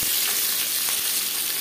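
A couple of bay leaves sizzling in hot mustard oil for tempering, a steady close crackling fry with no talk.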